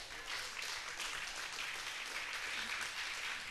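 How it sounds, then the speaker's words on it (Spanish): Steady applause from a church congregation, a dense wash of clapping that holds at an even level throughout, with no voices standing out. "Bríndele un aplauso al Señor en este día."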